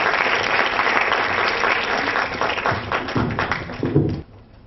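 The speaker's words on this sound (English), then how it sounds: "Please just give them a round of applause." An audience applauds after a performance at a spiritual gathering, a loud burst of many hands clapping close by that continues for several seconds before cutting off sharply, with no voices over it.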